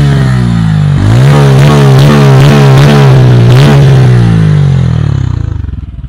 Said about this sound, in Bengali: এক্সস্টের সাউন্ড তো শুনতেই পাচ্ছ, বিভৎস বেস